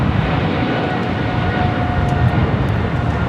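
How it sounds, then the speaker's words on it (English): An Air France Boeing 777-300ER departs for Paris, its dense, steady jet roar filling the air at close range and staying strong the whole time with no talk. "This is Air France Flight 23 taking off to Paris on a 777-300ER"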